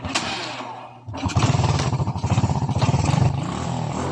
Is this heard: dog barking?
no